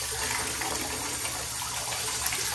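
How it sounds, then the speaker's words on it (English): Water pours from a tap into a bathtub in a steady, even rush, moderately loud and unbroken, with no voices over it. "So Mary likes to drink the water while we fill it up"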